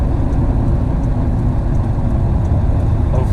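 A car cruising on a highway, its engine and road noise forming a steady, loud low rumble that holds evenly throughout with no talk.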